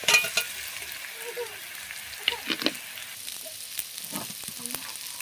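Pre-fried fish roe going into a hot pan of oil, a soft continuous sizzle broken by a few stirring scrapes, close and alone without speech.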